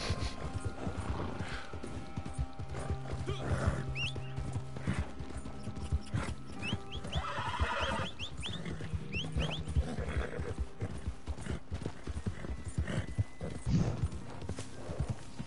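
Horse hooves clip-clopping at a steady gallop in the Red Dead Redemption 2 game world, with occasional whinnies and snorts of a tiring horse, faint and steady under an ambient background.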